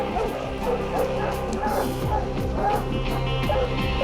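A pack of hunting dogs bays constantly at a cougar treed in the mountains, layered barks and yips overlapping in a steady, loud chorus from nearby.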